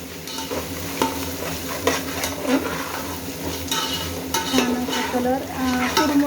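Red and green chili paste fries in a pan, crackling steadily while a utensil scrapes and clinks against the metal in repeated strokes, fairly close and with no voices.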